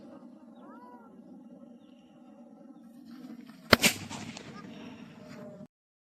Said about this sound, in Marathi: बघा फटाका ठेवलेला आहे आणि आता त्याच्यावरती बॉक्स ठेवलेला आहे।